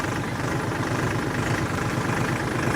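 A heavy tractor engine idles steadily at close range in a cotton field, a continuous low rumble and rattle with no pauses.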